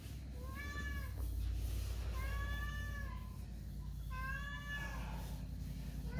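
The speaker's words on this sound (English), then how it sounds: "That'd be the cat that showed up." A cat meows three times in a car paint shop where a 1985 Dodge Ramcharger roof is being painted, each call clear and fairly close over a steady low hum of shop noise.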